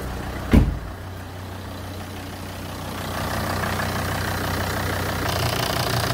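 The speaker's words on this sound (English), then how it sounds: "I've started the engine." A diesel Volvo XC90 (275) D5 AWD with a stuck swirl flap actuator idles just after starting: a short thump, then a steady, even engine rumble that grows slightly louder and continues without talk.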